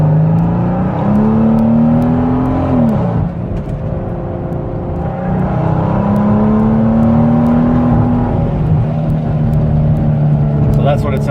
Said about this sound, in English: So that's what it sounds like, full throttle.